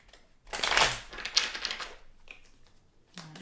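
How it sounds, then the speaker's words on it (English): Tarot cards being shuffled by hand, a quick burst of riffling, papery flicks lasting about a second and a half, followed by a few softer taps and slides of the deck, close and moderately loud. "I'm going to shuffle."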